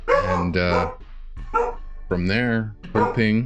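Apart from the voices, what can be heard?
dog barking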